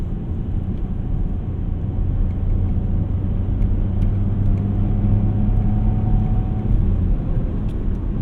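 A Saab 9-3 Aero XWD turbocharged sedan accelerates, its engine building boost as a steady low droning rumble with a rising tonal whine, heard from inside the car without talk.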